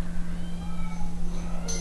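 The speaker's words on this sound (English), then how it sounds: "Look at this little kitten." A five-week-old male buff red ginger tabby kitten gives faint, thin meows, heard under a loud steady electrical hum.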